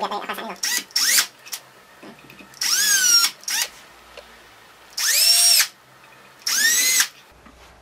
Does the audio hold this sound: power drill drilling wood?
yes